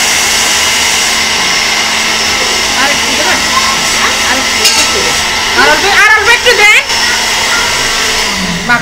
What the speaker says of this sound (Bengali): অল্প একটু পানি দিয়ে সুইচ দিয়ে ব্লেন্ডার করতে পারেন